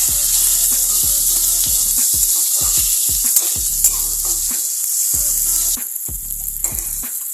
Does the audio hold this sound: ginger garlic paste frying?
yes